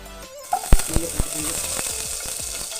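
Vermicelli sizzles in hot ghee in a pan, a steady close frying hiss broken by a few sharp clinks and scrapes of stirring near the start.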